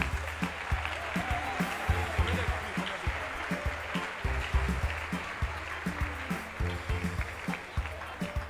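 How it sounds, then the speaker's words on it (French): A church congregation applauds a choir as it gets ready to sing, with steady clapping running throughout beneath a low musical hum and some voices. "Sous vos acclamations, s'il vous plaît."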